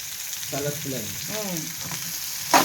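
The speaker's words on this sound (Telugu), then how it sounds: "పచ్చిమిరపకాయలు కరివేపాకు క్యారెట్ వేసి ఫ్రై చేసుకుంటాం" Green chillies, curry leaves and carrot fry in a pan with a pinch of asafoetida, a constant close hiss and sizzle running beneath someone talking.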